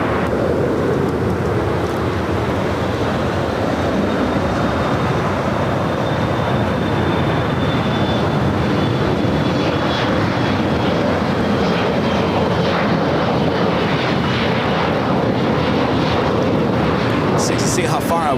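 An airliner lands on runway 25 left at LAX, its steady broad engine roar filling the whole stretch with a thin whining tone drifting across it, loud and continuous.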